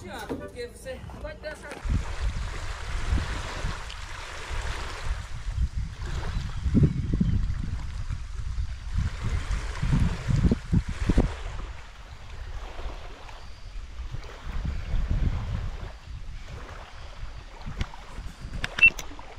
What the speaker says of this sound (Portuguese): tá ventando demais da conta